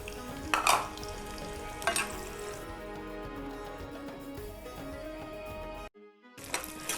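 Cashews, almonds and raisins crackle in hot oil for mandi biryani, a sizzle marked by a few sharp stirring clinks, cutting off abruptly for a moment before starting again.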